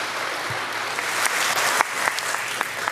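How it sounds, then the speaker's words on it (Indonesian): An audience at the Indonesia Stock Exchange closing ceremony for 2022 claps in a hall, a sustained mass of hand claps with a few sharper individual claps standing out, fairly close and steady. "Hadirin sekali lagi kita berikan tepuk tangan yang paling meriah."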